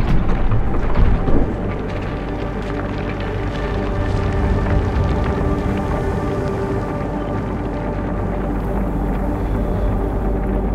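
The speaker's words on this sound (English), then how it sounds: "Keep an eye on that storm." A thunderstorm in the sci-fi game Fort Solis: a heavy, continuous low rumble of wind and storm noise, with a louder gust or roll at the start before it settles into a steady, dense roar with no talking.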